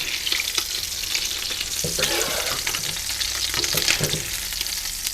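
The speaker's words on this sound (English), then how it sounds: "Get a nice sear on the other side." Homemade Salisbury steak patties sear in a frying pan, a close, steady sizzle broken by sharper crackles and a few scrapes of a utensil.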